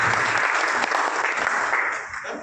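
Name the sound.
loud applause welcoming a guest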